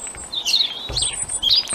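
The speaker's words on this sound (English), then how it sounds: "as soon as I stopped pointing the camera, along came birds" Wild birds chirp around a parked car outdoors, several short bright tweets and warbling calls overlapping near and slightly distant, with a low thump partway through.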